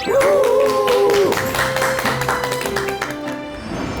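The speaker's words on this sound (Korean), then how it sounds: "큰 박수 부탁드립니다." A studio audience claps steadily to welcome a medical doctor onto a Korean health talk show. The dense applause fills the whole stretch over a bright musical jingle and stays loud throughout.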